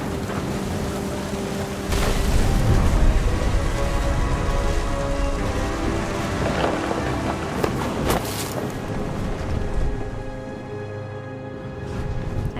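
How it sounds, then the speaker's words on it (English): A thunderstorm in the video game What Remains of Edith Finch, with steady heavy rain and low rolling rumbles of thunder swelling and fading, loud and continuous with no voices. "Thunder sounded much too close and full of angry power."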